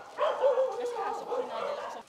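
Aggressive dogs bark and yip close by in a short burst, a few sharp rough barks running together over about two seconds, mixed with a whimpering edge.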